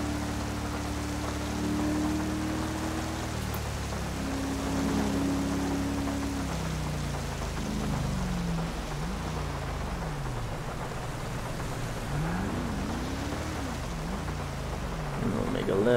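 Steady rain falls in the GTA FiveM video game, a continuous even hiss that fills the whole stretch, with engine tones rising and falling underneath as a car drives through the wet.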